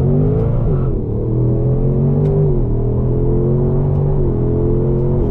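A 2024 Ford Mustang GT, a rear-wheel-drive car, accelerates hard with a loud, steady engine drone whose pitch climbs through gear changes, heard from inside the car.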